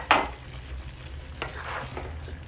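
Banana, potato and carrot pieces cook in a pan for pocherong manok, a Filipino chicken stew, with a sharp clatter as they go in, then a soft sizzle and occasional stirring sounds.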